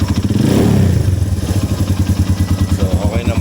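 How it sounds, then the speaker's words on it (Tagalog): RKS 150 motorcycle engine idling steadily up close after a fresh oil change, a loud, even, rapid thumping pulse with a brief rise near the start and a constant mechanical clatter throughout. "Tingnan natin ano yung tunog ng makina natin."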